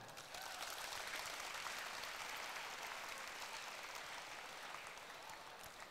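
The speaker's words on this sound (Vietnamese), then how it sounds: "cho một tràng vỗ tay để cam kết nào" Applause from a large audience of teachers and students at a Buddhist talk, a steady wash of many hands clapping that carries on without a break for about six seconds.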